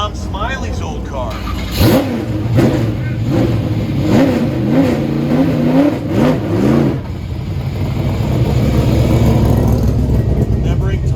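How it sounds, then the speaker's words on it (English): Tom Smiley's old 1965 Corvette accelerates hard at a Del Mar autocross, its engine revving up and down through several surging pulls before settling into a steady roar, with voices in the background. "This is Tom Smiley's old car."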